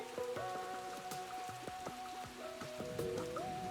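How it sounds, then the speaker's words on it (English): Rain in the game Whisper of the House patters in scattered drops and splashes over a soft, steady melodic tone. "Oh no, it's raining!"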